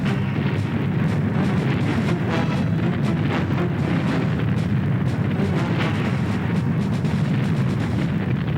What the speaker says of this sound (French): L'artillerie américaine entra en action.